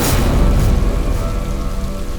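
Steady rain pours down outdoors near a cave in a courtroom drama scene, a dense continuous hiss with a low rumble beneath it, loud and unbroken throughout with no voices.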